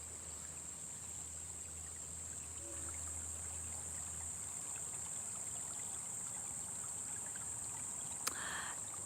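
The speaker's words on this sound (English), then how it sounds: "Listen to that water." Stream water flowing over rocks on a bush walk, a faint continuous wash under a steady high insect drone, with a brief click near the end.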